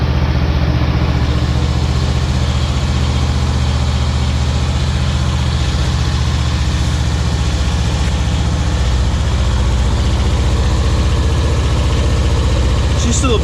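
A powersport motorcycle engine idles steadily after a cold start, a loud, continuous low rumble that holds throughout with no talk over it.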